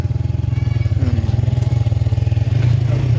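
Motorcycle engine thumping at close range, a steady fast pulsing idle with slight revving toward the end, with faint voices in the background.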